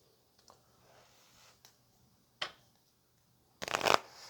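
Quiet tarot card handling with a few soft riffles and taps, ending in a louder, brisk shuffle near the end.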